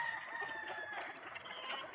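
A dense chorus of chickens and roosters, nearly a thousand birds at Altagin Farm in Malbog, clucks and crows continuously, with thin, high crowing calls rising over a steady, distant-sounding flock murmur.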